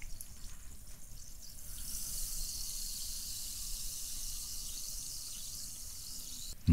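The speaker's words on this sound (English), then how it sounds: "I'm going to leave you with the smooth, dulcet, sweet sounds of sparkling water." Sparkling water fizzes up close in a constant, soft crackling hiss of bursting bubbles, heard alone and steady throughout, with a brief bump at the very end.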